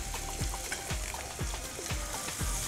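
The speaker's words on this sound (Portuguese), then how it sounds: "Vou deixar ele dourar aqui um pouquinho junto com a minha carne" Diced mirepoix vegetables browning alongside beef in a hot pan for a fillet in red wine sauce, with a steady, dense sizzle and a regular series of spatula scrapes, close and without speech.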